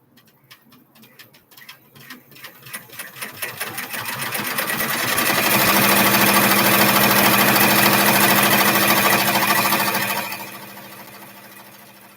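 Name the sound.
sewing machine stitching fabric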